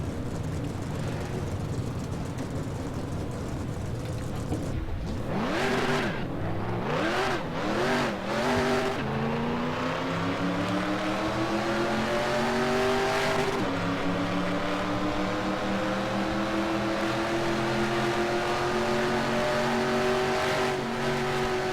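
Race car engines in NASCAR Racing 2003 roar steadily, then rev and climb in pitch as the field starts, settling into a loud, continuous whine of many cars together.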